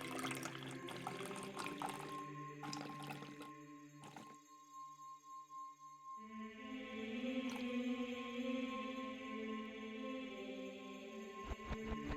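Water pours while a drink is refilled, a faint trickling fill that starts after a short pause and runs steadily for several seconds, with no talk.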